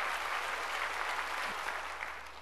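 A congregation claps together in a church service, a fairly distant, dense wash of hands that continues steadily and tapers off slightly at the end.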